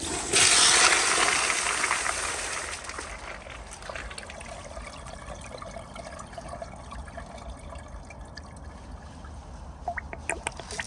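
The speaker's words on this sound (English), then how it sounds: "So I'll do one last overpowered flush." A 2007 American Standard Allbrook urinal gives an overpowered flush, a loud rushing burst of water in the first seconds that eases into a steady trickle and refill hiss, heard close with no talking.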